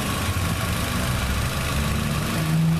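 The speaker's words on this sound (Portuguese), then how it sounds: "E agora é esperar o motor atingir uma temperatura ideal de funcionamento" A 2004 Renault Clio 1.0 8v engine idling in a mechanic's workshop, a steady, even low hum and rumble held throughout with no voices.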